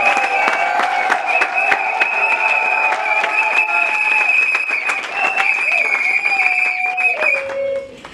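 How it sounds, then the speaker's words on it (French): An audience at a women's month closing ceremony applauds the head of state with dense clapping, overlaid by sustained shrill tones throughout, before trailing off at the very end. "Applaudissons encore le chef de l'État."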